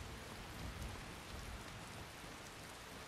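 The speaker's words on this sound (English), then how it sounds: "Why is it always raining?" Steady rain in the video game Skyrim, a dense, even hiss of falling water that holds without pause, soft and continuous, with no voices.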